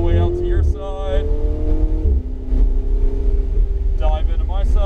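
A Ferrari 488 GTB on a race track accelerates hard, its engine note climbing in sharp, rising surges near the start and end, with a sustained whine between while an instructor talks over it.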